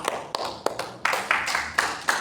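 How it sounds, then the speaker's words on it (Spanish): Congregation clapping in a church service, a short burst of moderately loud, uneven claps from a small group, with no voices over them. "Regálenle un aplauso al Señor."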